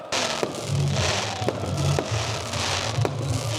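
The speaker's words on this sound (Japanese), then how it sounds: "また花火が上がりました。" Repeated fireworks bursts in Aleppo, Syria crack and thump in quick succession over a constant roar of crowd and distant noise, with sharp pops punctuating the din.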